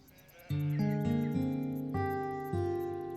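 Sheep bleat in a series of loud, wavering, harmonic cries, several overlapping calls close by with no speech.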